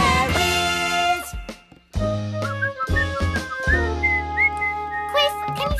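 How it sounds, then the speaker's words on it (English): Melodic whistling from a character in the Ha Ha Hairies cartoon, a bright wavering tune running through most of the clip over a loud musical background, with a short pause partway. "Don't you find whistling really annoying?"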